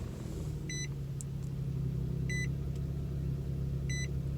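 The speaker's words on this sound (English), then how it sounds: "Let's fire up the engine though, because it is a little warm." Infiniti G37x coupe with a warm VQ engine idling after start-up, a steady low throaty rumble heard from the cabin, punctuated by three short repeated electronic chime beeps.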